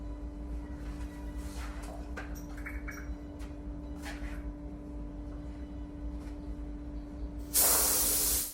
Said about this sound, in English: Change the mouth of spray gun vertically or horizontally depending on how you are going to spray.